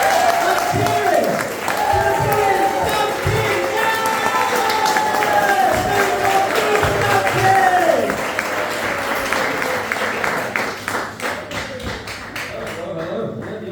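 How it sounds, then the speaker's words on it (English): Comedy show audience in Hull clapping and cheering, a dense, steady wash of applause with whoops and shouts on top, loud and close, thinning out toward the end. "Everyone start clapping! Let's hear it!"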